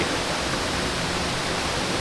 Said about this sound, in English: Yes, Kulen waterfall is so pretty.